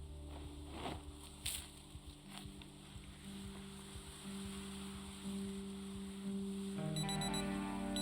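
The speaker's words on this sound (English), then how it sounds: "that's our alarm telling us it's a good time to go to sleep" An alarm clock in the Project Zomboid video game starts beeping in quick, repeated electronic pulses near the end, over a low continuous ambient game hum with scattered faint clicks.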